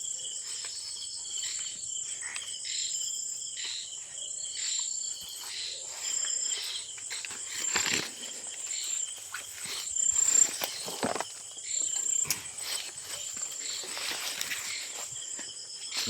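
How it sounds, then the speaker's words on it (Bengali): Crickets chirp in a dense, shrill, unbroken chorus on a quiet night beside a riverside areca nut grove, with occasional rustling footsteps close by. "গা ছমছম নিরিবিলি পরিবেশ ঝিঝি পোকার ভয়ানক আওয়াজ"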